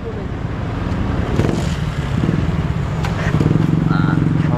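A motorcycle engine runs steadily amid road and traffic noise while it is being filled up with fuel, and people talk over the continuous engine drone.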